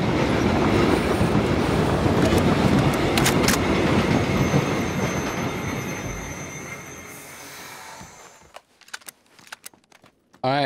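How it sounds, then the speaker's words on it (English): A train passing in PUBG on the Vikendi map, a loud rumbling roar with clattering wheels and squeals that gradually fades into the distance, followed by a few sharp clicks near the end. "Okay, so the train is coming."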